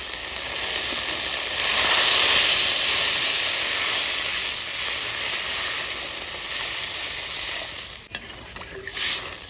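Water poured into a hot pan of fish curry seasoned with salt and turmeric, bursting into a loud rushing sizzle and hiss of steam that slowly settles, with a couple of sharp knocks near the end.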